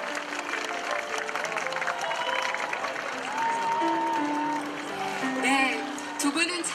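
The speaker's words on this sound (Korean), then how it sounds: "우리 강산혜 씨 여러분의 큰 박수로 함께 받도록 하겠습니다" An outdoor crowd at a street gathering near Hongik University in Seoul keeps up steady applause while voices and shouts carry through it.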